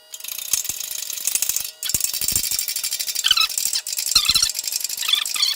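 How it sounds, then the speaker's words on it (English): A jack is ratcheted tight during a Grumman nose fork bearing replacement, with rapid metallic clicks in bursts and brief pauses, close and fairly loud. "now tighten up the jack"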